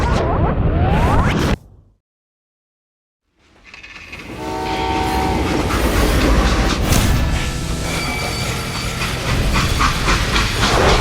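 A freight train in the video game Call of Juarez: Gunslinger rumbles loudly nearby and briefly goes silent, then returns with a long hissing horn-like tone over steady rolling noise.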